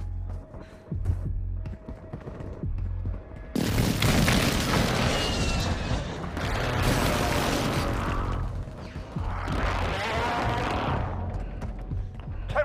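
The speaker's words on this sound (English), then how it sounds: "airstrike incoming." Airstrike explosions in COD: Warzone Mobile roll in as heavy, booming blasts, several overlapping rumbling detonations one after another, loud and close, with scattered gunfire between them and no talking.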